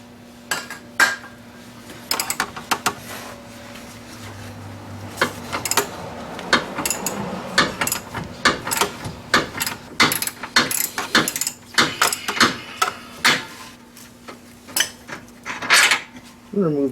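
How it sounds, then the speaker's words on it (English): Metal tools work on the bolts of a Honda Civic 1.7 EL front lower control arm: irregular close clanks, ratchet clicks and sharp metallic taps, sparse at first, then busier and steady throughout. "Remove the bolt like this."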